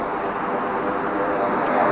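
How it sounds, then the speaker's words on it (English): An aircraft roars at Manchester Airport, a steady broadband engine rumble that fills the clip evenly at moderate loudness and never breaks. "We're at Manchester Airport"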